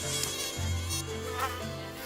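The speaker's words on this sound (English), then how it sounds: "they were interrupted by a noisy buzzing" Jumbleflies in a fairy story zip past in a loud, steady insect buzz that holds for about two seconds, with a low droning hum that swells midway and no voices.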